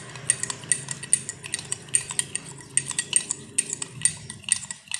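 A spoon stirring sugar and salt into hot water in a glass, a rapid series of bright metallic clinks and scrapes repeating steadily, close and alone.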